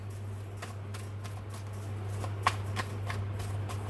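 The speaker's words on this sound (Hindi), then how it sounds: "नेक्स्ट एक्शन का कार्ड मैं निकालती हूँ" Tarot cards being shuffled and drawn by hand, a soft continuous riffling with small flicks and taps, close up over a steady low hum.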